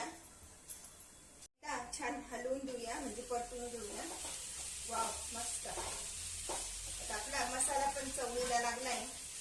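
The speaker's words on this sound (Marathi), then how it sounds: "आता आपली चवळी फ्राय होतीये" Black-eyed peas (chavli) sizzle as they fry in a pan, a soft continuous hiss running beneath a person talking throughout.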